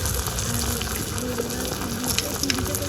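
Onion paste sizzling as it goes into a hot pan while cooking aloo dum with small new potatoes, a steady close hiss and crackle with faint clatter throughout and no talk.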